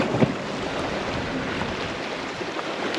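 Sailboat running at about 5.4 knots on the open sea in a steady wind, a continuous broadband rush of wind and water against the hull, with soft splashes, steady and fairly close throughout.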